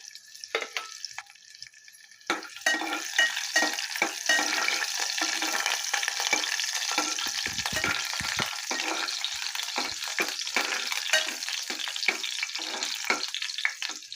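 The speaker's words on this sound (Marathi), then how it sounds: "तेल छान गरम झाल्यावर ठेचलेल्या लसणीच्या 5-6 पाकळ्या मी ह्याच्यात घालणार आहे।" Crushed garlic cloves hit hot oil with a sudden burst of sizzling after a quiet start, then fry in a steady loud hiss with small crackles and stirring scrapes.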